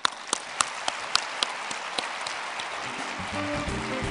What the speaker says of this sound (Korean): 함께 큰 박수를 보냈으면 합니다